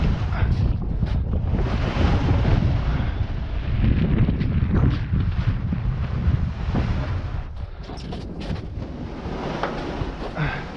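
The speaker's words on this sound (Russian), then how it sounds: "Так, ветер туда, лишь бы сейчас не унесло." Strong wind blows steadily across open river ice on the Pechora in the taiga at the close of winter, a loud continuous rushing roar with heavy buffeting against the microphone and no voices.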